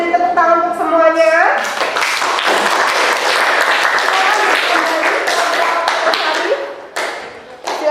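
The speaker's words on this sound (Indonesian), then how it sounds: "beri tepuk tangan untuk semuanya" Classroom applause for a class of students after a lesson, a burst of many hands clapping together following a brief spoken bit, sustained and fairly loud before trailing off into scattered claps and voices.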